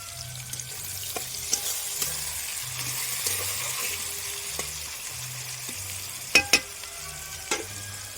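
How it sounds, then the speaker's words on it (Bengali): Onions sizzle and fry in a pan with a little salt, a soft continuous crackle punctuated by a few louder clinks and scrapes of a spoon. "পেঁয়াজ ভাজা হয়ে গেছে"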